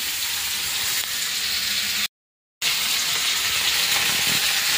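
Food frying in a pan with salt added to the oil gives a steady, close, dense sizzle, broken once by a brief moment of silence before resuming.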